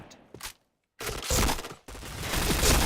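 Gunfire in the shooting game Point Blank, with dense bursts of rapid shots filling the clip after a brief quiet gap, loud and continuous, no talking.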